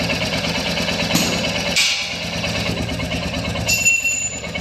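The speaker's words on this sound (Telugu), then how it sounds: "ఇంజన్ సౌండ్ కూడా మీరు ఒకసారి వినండి." A 2025 Royal Enfield Bullet 350 motorcycle in Military Red idles close by. Its engine gives a steady, rhythmic low thump that runs the whole time, with faint background noise.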